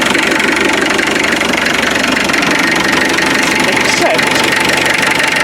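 A 2.5 litre naturally aspirated diesel engine idles loud and close with a steady, even clatter, while someone talks briefly over it.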